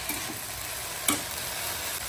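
Okra (bhindi) fries in a pan, making a quiet steady sizzle with a single brief utensil tap midway.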